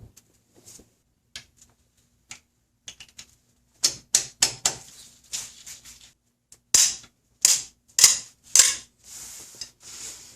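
Ratchet clicks and metallic taps from removing a hex bolt on the driver's side of a Toyota 5VZ-FE cylinder head, coming as quick close bursts with short pauses between them.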